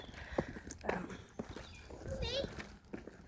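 Horse hooves clip-clopping on hard ground in an uneven walking rhythm, close by near a stable block, with faint voices in the background.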